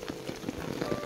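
Rain falls steadily during a climb on Mount Isarog, making a close, dense patter of drops striking a surface with a few louder individual splats throughout a short stretch.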